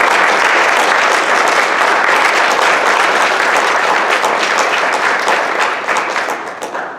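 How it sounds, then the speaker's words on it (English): Loud, sustained crowd applause for kindergarten graduates at a graduation ceremony, dense and steady for about six seconds before tapering off. "Another round of applause for our kindergarten graduates."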